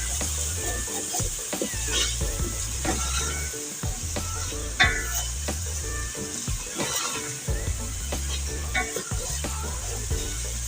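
Ridge gourd (turai) sabzi with green chilli and fresh coriander fries in a pan while being stirred, making a loud continuous sizzle with repeated scraping and clacking strokes across the pan, close up and with no talking.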